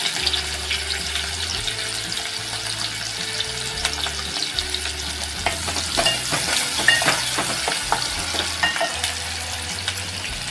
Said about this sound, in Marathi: इथे मी दोन मिडियम आकाराचे कांदे कट करून घेतले ते आपण टाकणार